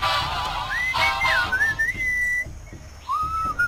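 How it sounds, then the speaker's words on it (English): Melodic whistling in the Sam & Max video game: a few gliding, wavering tones over a faint rhythmic backing beat, with a short pause before one last rising whistle. "What is that enchanting whistling sound?"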